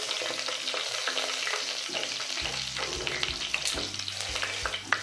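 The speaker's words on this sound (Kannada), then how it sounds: "ಆಯಿಲ್ ಬಿಸಿ ಆದಮೇಲೆ ಇದರಲ್ಲಿ ಸ್ವಲ್ಪ ಸಾಸಿವೆ ಹಾಕ್ಕೋಬೇಕು, ಜೀರಿಗೆ ಸ್ವಲ್ಪ, ಇದರಲ್ಲಿ ಗ್ರೀನ್ ಚಿಲ್ಲಿ 2 ಹಾಕ್ಕೊತಾ ಇದ್ದೀನಿ" Mustard seeds, cumin and green chillies frying in hot oil for a radish sambar, a dense crackling sizzle with sharp pops and spatters, steady and close with no talk.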